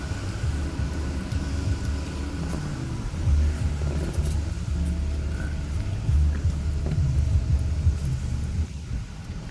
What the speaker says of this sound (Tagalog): May sasakyan pala.